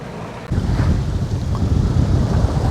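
A sailboat moves off Antigua and Barbuda in about ten knots of beam wind, with loud, gusting wind buffeting the microphone over the rush of water along the hull. The noise stays close and continuous, with no talk.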